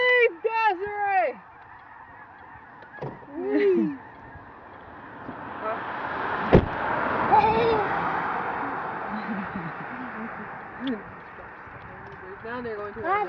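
Geese honk loudly in a close burst, then again in quieter calls and farther off later on, as birds are chased across an open area, with voices talking between the calls.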